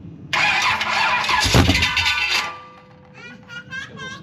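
A Ferrari 355 engine on its first start, the starter cranking hard for about two seconds with a loud whir, then the noise stops abruptly and a few quieter ticks and voices follow.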